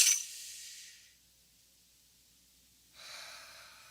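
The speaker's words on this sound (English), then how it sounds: "take a nice deep breath" A soft, airy deep breath: a breathy rush at the start fades into near silence, then a gentle exhale or inhale follows, faint and close.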